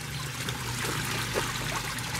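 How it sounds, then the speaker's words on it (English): Water from a pond bog filter pours down two small waterfalls in a steady, continuous splashing trickle, close and moderately loud with no talking. "both waterfalls functioning fine"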